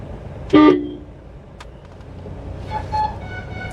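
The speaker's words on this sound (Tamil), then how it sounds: "ஹார்ன் அடிங்க" A single short car horn toot sounds sharply, followed by a fainter second honk a couple of seconds later over low road noise.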